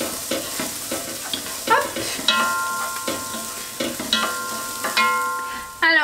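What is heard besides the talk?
potatoes, onion, garlic and turmeric cooking in a dish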